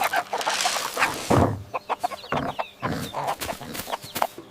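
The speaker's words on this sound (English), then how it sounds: "Feeding chickens, pig scatters grain for the little ones." Farmyard chickens cluck as grain is scattered for them, with a burst of busy calling followed by a run of short, close clucks in an irregular rhythm.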